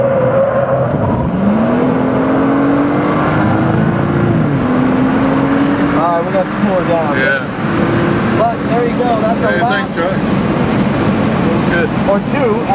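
A BMW race car engine runs at Laguna Seca, a tone rising and settling as it revs, loud and steady beneath voices talking over it throughout.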